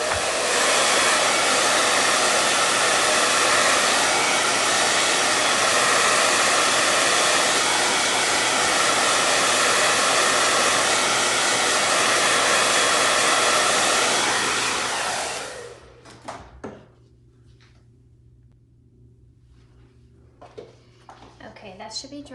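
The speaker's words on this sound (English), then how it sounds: "let me hit this with the hair dryer so we can keep moving on here" A hair dryer roars steadily at close range for about fifteen seconds, then cuts off, leaving near silence with a few faint clicks.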